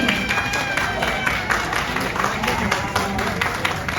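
A crowd at a Christmas party at the Manila Grand Opera Hotel claps steadily to vote for a contestant, with dense, continuous applause and some voices mixed in underneath.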